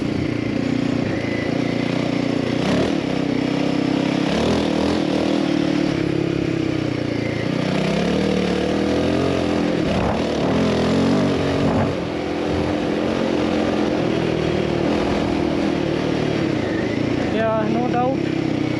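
Royal Enfield Himalayan 450 motorcycle ridden with a steady engine drone and wind roar throughout, loud and close, with a voice talking over it.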